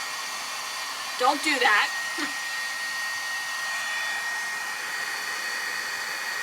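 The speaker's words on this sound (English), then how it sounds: "I'm gonna turn on my heat gun." A heat gun blows steadily while melting embossing powder on vellum, a constant loud whooshing hum that runs nearly the whole time, with a brief spoken remark near the start.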